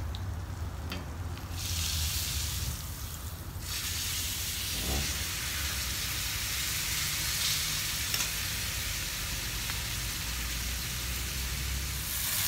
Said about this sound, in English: So I'm about ready to turn the steak.